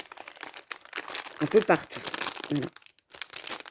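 Vintage Easter-themed papers crinkle and rustle as they are handled, bursts of crumpling paper near the microphone alternating with someone speaking French.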